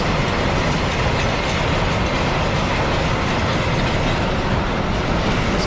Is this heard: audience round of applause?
no